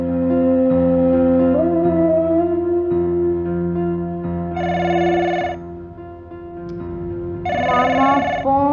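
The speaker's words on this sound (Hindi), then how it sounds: "मामा फोन।" A telephone rings twice in two electronic bursts over soft background music indoors at home.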